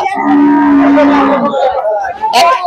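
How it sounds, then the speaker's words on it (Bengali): A loud, close cow moo, long and low, followed by softer bellowing with faint crowd chatter in the background at a cattle and goat market. "এরপরে আরেকটি ছোট গরু দেখতে পাচ্ছি"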